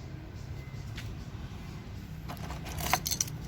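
A motorcycle key set with a remote and key card jangles briefly near the end, a few bright metallic clinks over a low rumble of nearby road traffic.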